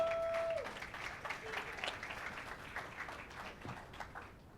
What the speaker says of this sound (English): Let's give TJ a giant round of applause